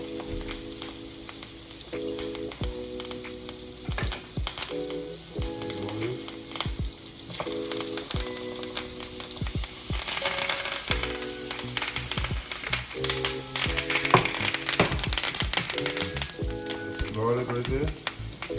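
Butter sizzles and crackles around fondant potatoes frying in a pan, a steady close hiss with clatters and scraping over it and a background tune playing throughout.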